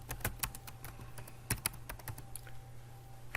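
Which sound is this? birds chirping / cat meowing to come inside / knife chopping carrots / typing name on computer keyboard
typing name on computer keyboard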